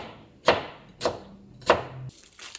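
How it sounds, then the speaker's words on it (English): A knife chops takuan, Japanese pickled radish, on a cutting board in three sharp, evenly spaced strokes, close and crisp, with a brief scrape at the end. "Then I grabbed some takwang, Honda takwang. Chop it up."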